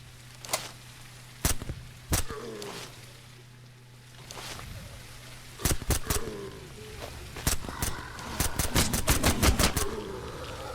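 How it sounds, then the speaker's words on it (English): Gunfire in the video game SurrounDead, sharp irregular shots fired at a tent, single cracks spaced apart early, then a rapid cluster of bursts near the end over low background hum. "Shooting the tent."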